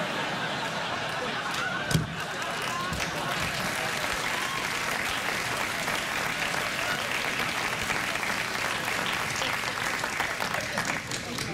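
Studio audience at a late-night talk show bursts into steady, dense applause that fills the room, with a sharp knock early on and clapping continuing throughout without a break.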